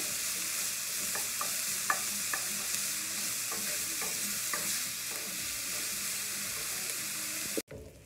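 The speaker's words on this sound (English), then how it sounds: "Our bacon will release enough oil for the onions to fry." Onions fry in rendered bacon fat with a steady close sizzle, punctuated by light stirring taps and scrapes, before the sound cuts off abruptly near the end.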